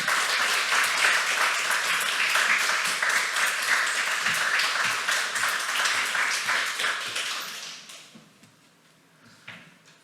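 Congregation at a Friday prayer service in a Korean church applauds loudly to welcome a missionary speaker, the dense clapping holding steady before fading out near the end, followed by a few faint thumps.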